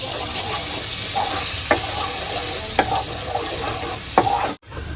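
Garlic paste frying in a hot pan for spicy potato bhungla, a steady close sizzle with a few sharp scraping stirs of a spoon, then a brief cutoff near the end.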